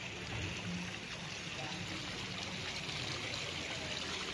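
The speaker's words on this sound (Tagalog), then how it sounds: "Galing yan sa bukal ang tubig." Spring water flows steadily from a natural spring into a resort swimming pool in Liliw, Laguna, giving a continuous, broadband trickling wash that is fairly close and even throughout, with no talk.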